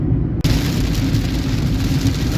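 Loud, continuous roar of heavy monsoon rain drumming on a car driving on the Mumbai–Goa highway, a dense unbroken wash of noise after an abrupt start.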